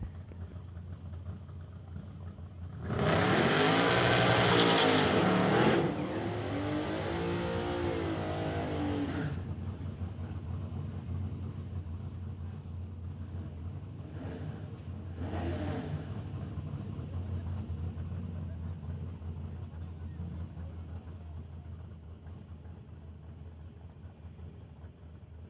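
A red truck doing a burnout at the Mission Raceway drag strip: a loud, broadband roar of engine and tire spin builds suddenly and holds for several seconds, then fades to a lower rumble, with two brief bursts later over steady background noise.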